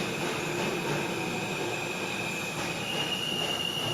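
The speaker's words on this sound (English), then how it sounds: "They sound a little more high pitched than the Siemens propulsion cars." Steady roar of a subway train with Alstom propulsion running at speed, with a high-pitched whine and squealing wheels throughout, close and loud.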